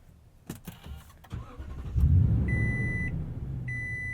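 The 5.7-liter V8 of a 2020 Toyota Tundra TRD Pro CrewMax with TRD exhaust cranks and settles into a deep, steady idle, preceded by door and handling clunks, with the cabin's electronic chimes beeping over the rumble.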